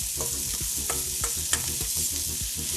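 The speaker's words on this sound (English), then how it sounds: "And now that sound is really what you wanna hear when you're sauteing." Vegetables sauté in a hot pan with a steady, close crackling sizzle, broken by sharp pops and the clatter of stirring at irregular moments, with no voices.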